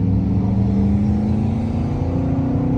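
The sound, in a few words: car engine revving while accelerating in first gear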